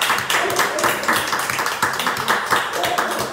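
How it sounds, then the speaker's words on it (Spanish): Congregation applauding and clapping at a church healing crusade in Neuquén, Argentina, a steady mass of hand claps with voices mixed in under the sound throughout. "Un aplauso a Jesucristo por eso."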